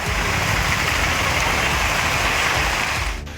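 Heavy rain falls with wind around Sivakasi in Virudhunagar district, a dense, steady roar of downpour and gusts filling the whole stretch with no voices.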